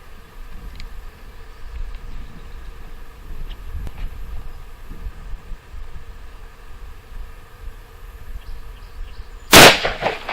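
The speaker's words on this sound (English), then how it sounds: "Next, shooting a 357 mag hollow point." .357 Magnum hollow point round fired from a handgun into a water jug outdoors: after a long stretch of quiet background noise, a single sharp, loud shot cracks near the end.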